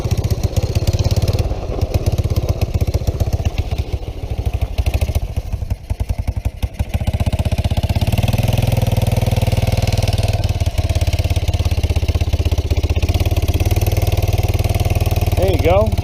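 Three-wheeler engine idling and revving steadily throughout, a continuous low mechanical drone with slight throttle swells as a learner rider is coached, with someone talking over it.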